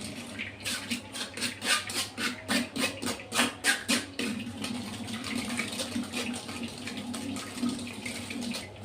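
Blended mint watermelon juice is poured and pressed through a strainer, making rhythmic sloshing pulses at first and then a steady, softer trickle of liquid, close by and with no talk.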